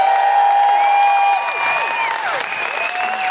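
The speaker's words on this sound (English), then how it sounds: "Big round of applause for Ruth Madeley." A live theatre audience at the Lowry in Salford applauds for a guest, with loud close clapping mixed with whoops and cheering voices that glide up and down, easing slightly after the first second.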